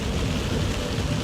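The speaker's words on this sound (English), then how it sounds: "It's raining so hard." Heavy, steady downpour drumming hard on surfaces, a loud dense hiss that fills the whole moment with no break and no voices.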